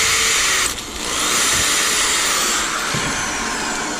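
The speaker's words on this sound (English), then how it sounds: "I'm going to drill a hole in one side of it" A loud power drill whines steadily, briefly dipping as it bites into material, then running on continuously close by.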